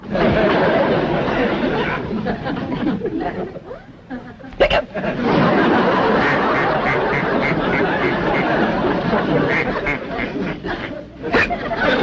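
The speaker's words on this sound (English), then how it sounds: "Looks like we got a drunk duck on our hands." A pet duck that has become drunk in an early-1960s Beverly Hillbillies sitcom scene quacks repeatedly through a busy stretch of chatter and laughter, the calls fairly close and mixed in with the crowd noise.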